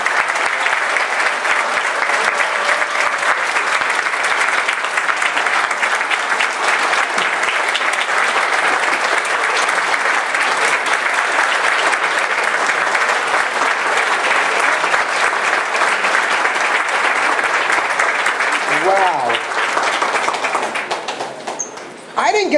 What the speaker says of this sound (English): I didn't get this much applause when I was in office.